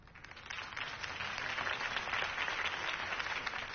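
A crowd applauds Harvey Dent's campaign speech in a Batman video game, sustained clapping that builds slightly and holds steady at a moderate distance.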